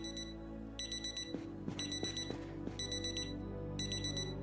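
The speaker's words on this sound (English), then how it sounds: "was it because of one of these stupid freaking alarm?" An alarm clock in the video game Project Zomboid rings in four repeated bursts of rapid electronic beeping, each burst about half a second long, with faint taps and clicks in between and no talk.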